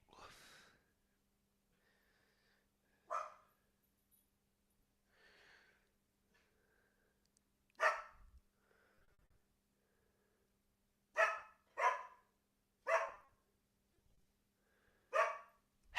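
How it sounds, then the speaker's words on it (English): A dog barks in sharp bursts, single woofs spaced out then a quick cluster of three and a final bark, loud and close in a quiet room with a faint low hum underneath. "There's nothing to bark at!"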